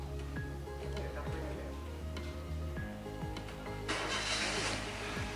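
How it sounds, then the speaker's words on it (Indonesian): A car engine cranks and fires up ahead of an exhaust emission test, with ticking clicks and several starter whirs before it catches, then settles into a louder idle with a hiss, close to the microphone. "selanjutnya kita nyalakan mesin terlebih dahulu"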